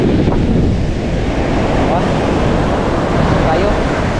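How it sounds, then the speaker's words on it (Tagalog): Sea waves wash onto the shore beside a fishing spot, a loud continuous rumbling surge mixed with heavy wind buffeting the microphone. "May alon sa tabihan."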